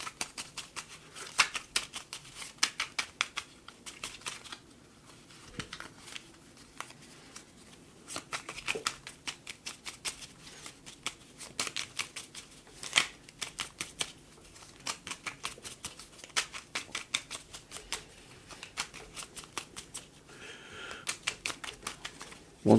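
Tarot cards being shuffled and drawn, a dense run of crisp riffling clicks and flutters close up, with brief pauses between bursts and no talking.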